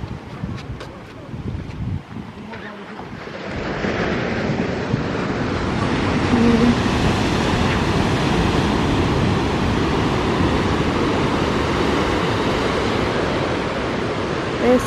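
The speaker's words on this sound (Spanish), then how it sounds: "viene una ola muy grande ahí" Surf along Matador Beach in Malibu, with a large ocean wave breaking: a broad, steady roar of crashing water that swells after the first few seconds and holds loud, mixed with wind buffeting the microphone.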